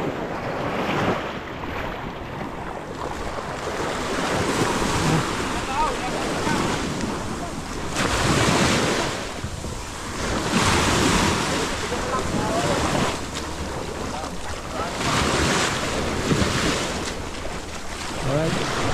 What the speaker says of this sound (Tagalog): Laki na ng alon.